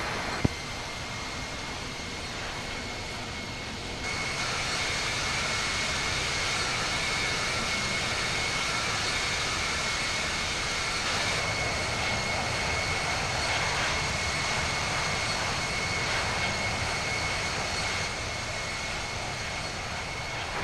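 Boeing 787-9 jet engines roar at takeoff power in the Infinite Flight game, a loud steady broadband rush with a thin whine on top that swells slightly after a few seconds and holds, no voices.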